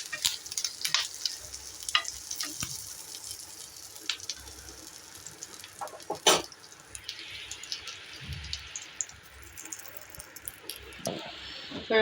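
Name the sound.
dry red chillies and curry leaves frying in oil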